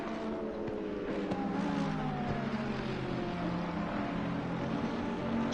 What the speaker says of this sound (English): that gorgeous sound of the Aston Martin's engine